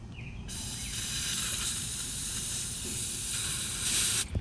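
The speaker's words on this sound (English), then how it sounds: "I'm just going to purge the air out of this hose right now." Refrigerant hissing hard from an HVAC charging hose as air is purged: a loud, steady high-pitched hiss that starts abruptly, holds for about four seconds, swells briefly near the end and cuts off, with no talk.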